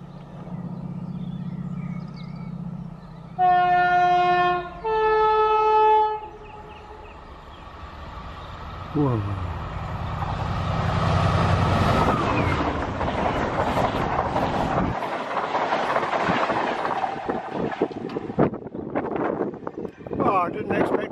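A Class 68 diesel locomotive hauling a freight train at Wormleighton level crossing sounds two loud horn blasts, then rumbles past close by with a long, rising roar of engine and wagons as wind buffets the microphone.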